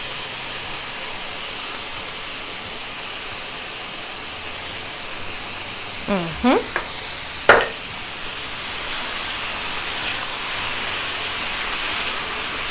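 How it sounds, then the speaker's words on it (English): Caramelized onions being mixed with barbecue sauce, heard as a steady frying hiss with a few scraping stir sounds partway through, close and continuous, with no talk. "we are going to add our barbecue sauce to this onions"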